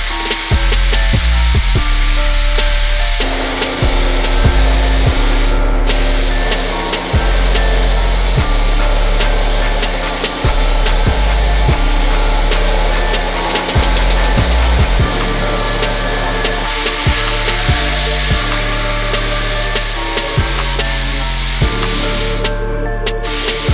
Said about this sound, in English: I'm gonna start putting my base coat down.